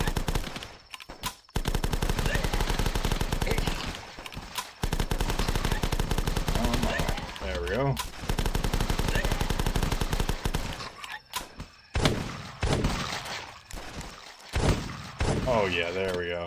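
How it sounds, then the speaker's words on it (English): Rapid bursts of gunfire from The Last Stand zombie survival game during a night siege, with dense, loud volleys broken by brief pauses and occasional thuds. "What are you shooting at?"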